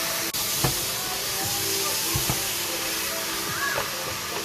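Potatoes go into a pan of spicy Rajasthani laal maas, a lamb curry cooked in chillies. They bring a steady close hiss and sizzle, punctuated by a few soft clunks and scrapes.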